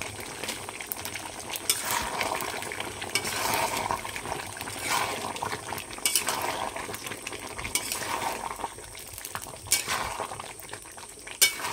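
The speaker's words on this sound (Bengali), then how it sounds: "তো সুন্দর করে আমি কষিয়ে নিচ্ছি।" Chicken sautéed with chili powder in a pan, a steady sizzle and bubbling under regular scraping stirs of a spoon, close and continuous without talking.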